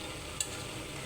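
Chinese vegetables and chicken stir-fry in a hot pan, a steady close sizzle with a single brief scrape of a utensil.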